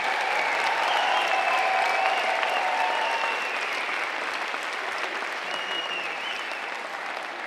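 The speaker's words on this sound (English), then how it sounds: "How about one more round of applause for all of our volunteer winners?" A full round of audience applause for volunteer award winners at a school district recognition night, loud steady clapping from a large crowd that slowly tapers toward the end.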